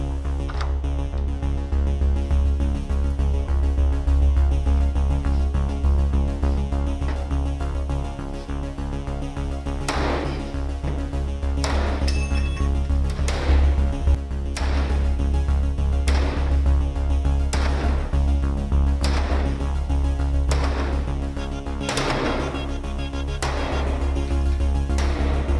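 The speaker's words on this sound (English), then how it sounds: "Supplied 21 sledgehammer strikes." A sledgehammer repeatedly strikes a classroom door lockdown device, with loud impacts every couple of seconds in the latter half over a constant heavy droning hum.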